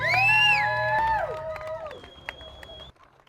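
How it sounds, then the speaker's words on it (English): A crowd at a coffee shop charity raffle whoops and cheers loudly, with high shouted voices rising then falling away, a few scattered claps, and a sudden drop to quiet at the end. "Give yourselves a round of applause."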